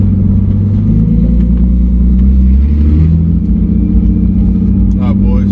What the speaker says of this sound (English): I just got the car out of the garage. It's the first drive.